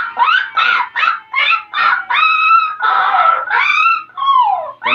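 A voice imitates a chicken with a string of squawking, clucking calls in quick bursts, ending in a drawn-out falling cry, close and loud with no other sound behind it.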